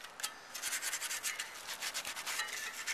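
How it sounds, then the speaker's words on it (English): Sandpaper rubbed back and forth along a cracked bicycle spoke on a commuter bike, a close, steady series of quick scratchy strokes with no talking. "you're going to go along with a little piece of sandpaper underneath side, the little crack, this little crack, both sides, all the way around"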